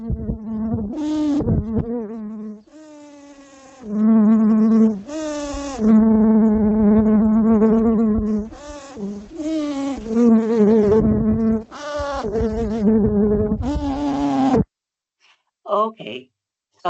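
Native Australian bees buzz-pollinating flowers in Adelaide, with loud, sustained droning buzzes in repeated bursts of a second or two, separated by brief pauses, recorded close up and ending in a few scattered faint buzzes.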